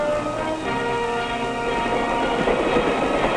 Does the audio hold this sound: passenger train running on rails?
yes